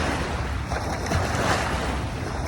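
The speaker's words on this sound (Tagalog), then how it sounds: "Biglang lumakas naman ang alon" Strong waves at Dolomite Beach on Manila Bay, a close, continuous wash of surf with wind buffeting the microphone, no talking.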